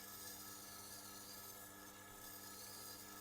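Shun flexible filleting knife drawn along the stone of a Tormek T8 sharpener, giving a steady, continuous close rasping hiss with faint rubbing texture throughout, no voices.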